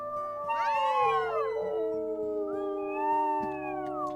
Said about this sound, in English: The Lamar Canyon is so active right now. My gosh. They're just howling away again.